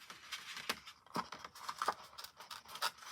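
Paper being torn roughly by hand while making a snowboots Christmas card, heard as a few short, close ripping and crinkling bursts with no talk over them.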